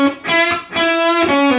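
A distorted electric guitar plays a short phrase from a solo, three or four loud sustained notes with quick pull-offs, played alone and close.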